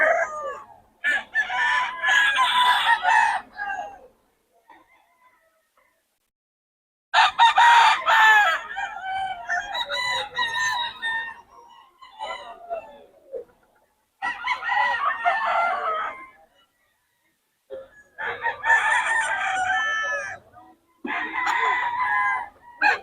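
Several roosters crow in long, drawn-out calls, one after another with short pauses between, close and loud, with hens clucking faintly, at a chicken seller's in Bocaue.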